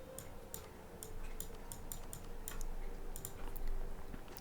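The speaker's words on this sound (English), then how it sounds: "I apologise if you can hear that crunching noise." A cat chews something crunchy close by, giving repeated sharp crunching bites in a steady, fairly quick rhythm over a low background hum, with no talking.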